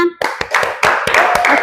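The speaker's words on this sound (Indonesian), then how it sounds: "Oke, beri tepuk tangan." Schoolchildren applauding in a classroom: a short burst of loud, close claps in an uneven rhythm after a brief voice, building into denser group clapping.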